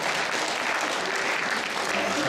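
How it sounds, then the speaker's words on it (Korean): Steady, dense applause from a concert audience at a year-end classical music gala, holding at an even level throughout without any break. "큰 박수."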